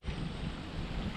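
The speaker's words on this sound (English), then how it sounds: "it's windy" Wind buffets the microphone outdoors beside a 6x6 Perentie ambulance, a brief, steady rumbling gust with a broad hiss.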